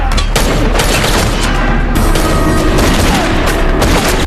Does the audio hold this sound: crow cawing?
no